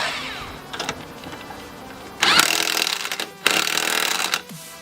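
A power tool, likely an impact wrench, tightening lug nuts on a 2001 Honda Accord EX wheel, heard in two loud bursts of rattling whir after some softer handling noise.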